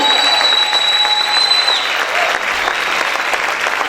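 Church congregation applauding loudly, a dense continuous wash of many hands clapping at once, steady and close, with a faint whistle-like tone at the start.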